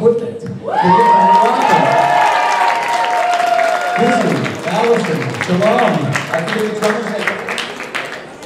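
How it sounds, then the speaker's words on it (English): A concert crowd applauds and cheers for the band, dense clapping with whoops and shouts running loud through the whole stretch, a sustained tone ringing above it early on. "they deserve a special round of applause because this was the band that helped me with all this equipment."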